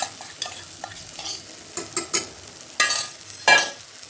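A paste of onion, coconut and roasted gram sautés in a pan, with distinct bursts of spatula scraping and stirring over a soft sizzle, close and without talk.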